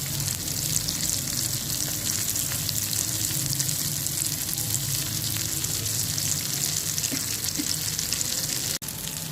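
Matar aloo tikki frying in hot oil in a pan, a loud continuous close sizzle with crackling throughout, a brief knock near the end.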